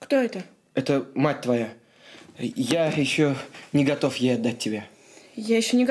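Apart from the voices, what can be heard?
No everyday noises stand out.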